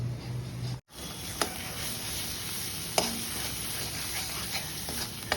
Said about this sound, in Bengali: মশলা তো ভাজা হয়ে গেছে